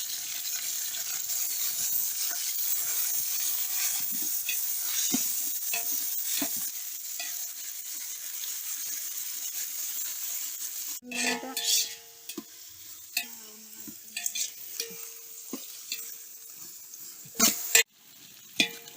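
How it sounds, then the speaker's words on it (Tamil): Onions with green chillies and whole spices sizzle in hot oil for vegetable biryani, a steady close frying hiss, then a spoon scrapes and clinks against the pan in scattered stirring strokes as the sizzle settles. "வெங்காயம் நல்லா வதங்கிடுச்சு"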